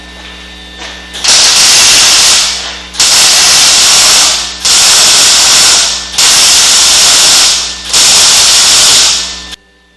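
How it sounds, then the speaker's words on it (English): Five long, loud bursts of welding on bracing for a 1979 Camaro, each a harsh crackling hiss lasting a second or two, set apart by short gaps over a low steady hum. "we can go ahead and weld it out"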